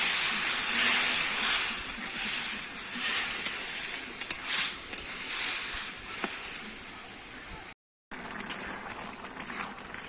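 Boiled pumpkin stalks hit a hot pan and are stirred, giving a continuous steamy sizzle and hiss with scraping clatters. There is a short gap before the sizzling picks up again.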